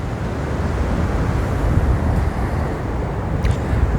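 Steady wind buffets the microphone outdoors, a constant low rumbling roar with no voices.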